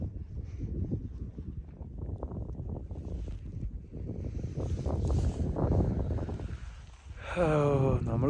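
Wind rushes past an open cable car gliding over pine trees near Shymbulak, Almaty, Kazakhstan, a steady close roar that keeps on under someone talking and swells louder near the end.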